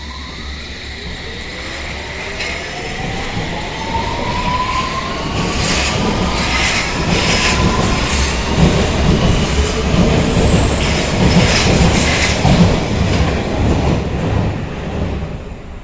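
An S train pulls away from a station platform, its motor and rolling rumble building steadily louder over several seconds, with wheel squeal, rising electric whine and rhythmic rail clatter close by.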